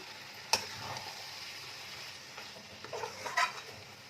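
Cabbage stirred with garam masala in a frying pan over a soft, steady sizzle, with a few sharp spatula clicks against the pan, close but quiet.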